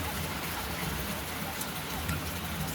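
Rain falls outdoors at a rural home, a dense steady hiss of drops on surfaces with no breaks, faint and spread evenly throughout.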